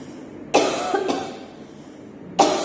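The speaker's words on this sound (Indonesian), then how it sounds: "Batuk terus, capek." A person who is sick with Covid-19 and waiting for a hospital room coughs. Three harsh coughs come close to the listener, two in quick succession and a third about a second later, with quiet between them.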